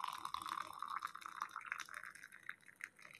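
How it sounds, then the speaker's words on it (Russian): Boiling water poured onto a spoon into a glass makes a faint, close trickle and splash with a rising fill tone, quiet and continuous, with no talk. "Я всегда наливаю вот таким образом кипяток в стакан, чтобы он не треснул."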